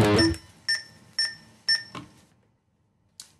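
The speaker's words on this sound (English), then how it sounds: "And with a metronome, that sounds like this." A metronome on a guitar chromatic warm-up exercise gives four evenly spaced, bright electronic clicks, then a pause and one more click. Any guitar notes are faint or absent; there is no talking.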